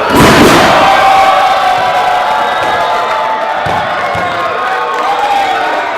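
A large crowd at a brawl event roars and cheers loudly, peaking in the first second with shouts and whoops, then holding a sustained dense roar throughout.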